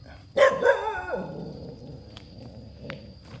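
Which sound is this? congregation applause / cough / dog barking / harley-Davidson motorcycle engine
dog barking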